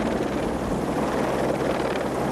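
A helicopter carrying a slung load hovers near a ship's flight deck, its rotor thumping in a steady loud wash with deep engine rumble and wind buffeting the microphone for a couple of seconds.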